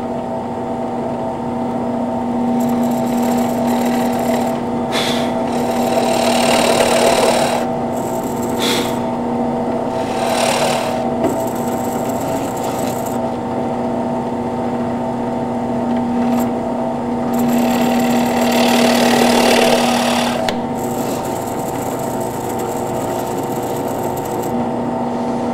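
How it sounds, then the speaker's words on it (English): A drill fitted with a countersink bit bores a screw hole, whirring in a steady motor tone while louder grinding bursts come and go as the bit cuts in. "it makes the perfect countersink drill bit for this part as well"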